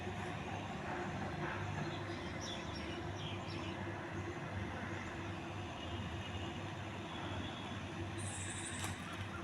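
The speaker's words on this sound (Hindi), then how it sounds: "मेट्रो आ गई" A metro train arrives with a steady low rumble of rolling wagons and wheels on rails, heard faintly and continuously from a stairwell with no talk over it.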